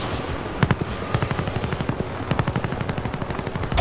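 Rapid bursts of automatic gunfire crack over the steady chop of a helicopter in Call of Duty: Modern Warfare, loud and close, with rhythmic shots running through the whole stretch.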